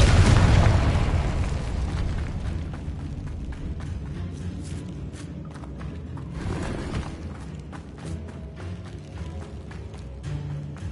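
Confringo blasting spell going off in Hogwarts Legacy: a loud, booming burst at the start that decays into a long rumbling tail, with scattered game crackles and footsteps following.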